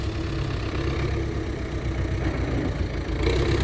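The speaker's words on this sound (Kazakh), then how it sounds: "Міне сол біздің трактор бол" MTZ-82 tractor engine idling nearby, a steady low chugging drone with a regular pulsing beat, continuous and fairly loud with no voices.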